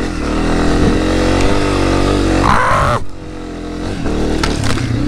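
A dirt bike engine drones loud and close while riding through leaves on a slick trail, holding a steady throttle, then briefly dropping before revving up again.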